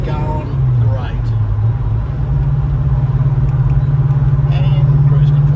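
A Ford Fairmont XC GXL cruises on a South Australian highway at about 110 km/h, its engine humming low and steady inside the cabin with tyre and road rumble, as people talk over it.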